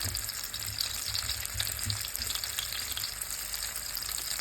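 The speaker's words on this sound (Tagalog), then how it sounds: "Ngayon, luto tayo ng hotdog Italiano for breakfast." Small Italian hotdogs fry in a pan for breakfast with a steady, even sizzle and crackle, heard close up and alone throughout.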